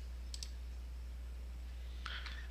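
A computer mouse gives two quick pairs of faint clicks, one near the start and one near the end, over a low steady hum in a quiet room.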